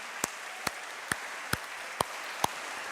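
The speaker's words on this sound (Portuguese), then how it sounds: "Vamos aplaudir ao Rei?" Church congregation applause, heard here as six sharp, evenly spaced claps roughly half a second apart. The claps stand out over a soft, diffuse room background, close and fairly quiet, with no talking.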